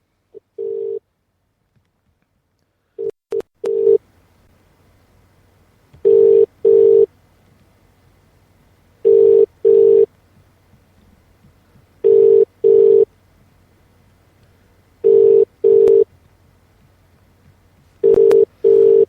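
A telephone call rings out unanswered, with paired tone bursts repeating about every three seconds over a faint low hum and a few short clicks near the start.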